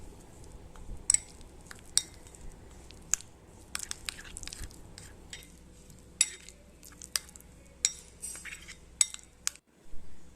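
A spoon clinks and scrapes against a bowl while mixing ground coriander and Kashmiri chilli powder, with irregular sharp taps and a steady rustling stir up close.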